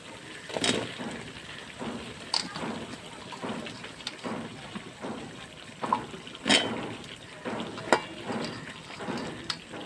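Chopped mixed vegetables hit hot fried spice paste in a pan for a fish-head ghonto and get stirred, giving a steady sizzling crackle with sharper bursts as they are tossed, loud and close.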